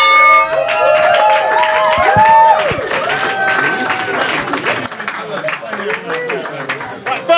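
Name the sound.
audience applause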